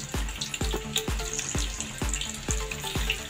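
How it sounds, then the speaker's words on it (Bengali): Potato pieces frying in hot oil on a low flame, a steady close crackle and bubbling sizzle with a rhythmic series of low thumps about every half second. "দিয়ে আলুগুলো ভেজে নেবেন।"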